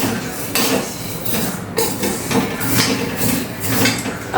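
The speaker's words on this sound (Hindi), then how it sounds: "अब मैं इनको सेक लूँगी, भूनने कलर थोड़ा चेंज होगा" Ingredients being dry-roasted in a pan, with repeated metallic clinks and scrapes of a utensil against the pan, steady and close, with no one talking.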